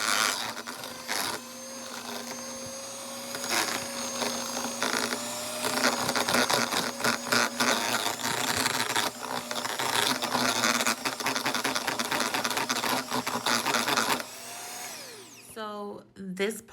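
Electric hand mixer whirring steadily as it creams shortening and applesauce for vegan chocolate chip cookie dough, a continuous close motor drone with brief speech-like sounds over it, cutting off near the end.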